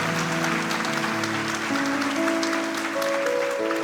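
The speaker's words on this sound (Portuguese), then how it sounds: "Pode dar um aplauso para ele, igreja?" Congregation in a church service applauding together, a steady continuous wash of clapping held at even loudness with faint musical tones beneath.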